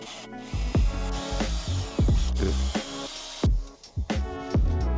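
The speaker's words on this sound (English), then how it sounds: "Now we're going to remove the bracket or the 4 screws that are holding it together." Screws being backed out of a radio bracket inside the dash of a 2017 Nissan NV200: close, repeated ratcheting clicks and scraping tool strokes with short gaps between bursts, no talking.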